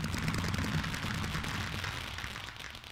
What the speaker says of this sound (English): I gotta wait for the fireworks,